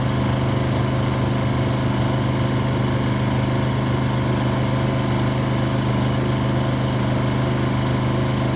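A Honda EU2200 inverter generator runs under load on three-year-old 100LL avgas, a steady close engine drone with an even low hum and smooth constant buzz that holds without change throughout, with no voices.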